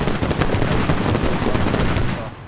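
Dense automatic gunfire crackles in the military shooter game Squad, loud and continuous bursts over rumbling background.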